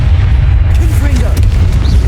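A Confringo spell explosion in Hogwarts Legacy: a loud, sustained low boom and rumble that fills the whole moment, with faint higher whooshing traces over it.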